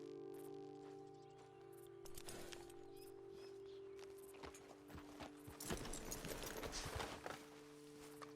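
Horse hooves clip-clop at a walking pace in the video game Red Dead Redemption 2, irregular soft thuds over a steady low tonal hum, growing busier and louder toward the end.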